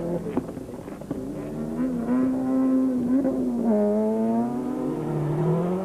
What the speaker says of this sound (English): watch and listen as the bulky N4 cars battle the twisties high in the hills